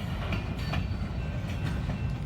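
A Kiamichi Railroad train passes at night in Idabel, Oklahoma, a steady loud rumble with rhythmic clickety-clack of wheels over rail joints, alone without talk.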